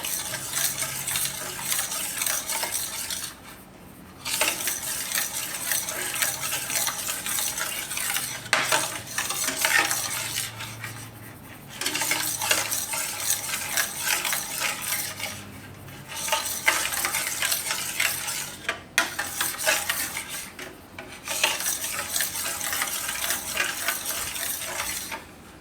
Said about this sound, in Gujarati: આને આપણે હલાવતા રહેવું